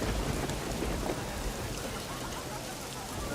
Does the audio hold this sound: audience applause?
no